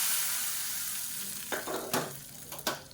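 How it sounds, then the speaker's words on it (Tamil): Mustard seeds, cumin and fenugreek tempering in hot oil, poured over cabbage sambar, sizzle steadily with a few louder crackling bursts toward the end. "இப்போ இதுக்கு வந்து தாளிப்பு கொடுத்துடலாம்."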